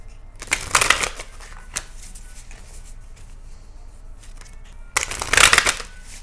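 Cards being shuffled twice, quick riffling bursts near the start and again near the end, with quieter handling noise in between.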